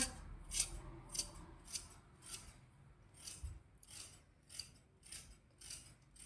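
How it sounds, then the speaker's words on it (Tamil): Scissors snip through old saree fabric in curved cuts, a series of about a dozen crisp close blade strokes in an uneven rhythm over quiet background with no voices. "ஃபர்ஸ்ட் இதை வளைவாக கட் பண்ணிக்கோங்க அடுத்து இதையும் வளைவாக கட் பண்ணுங்க"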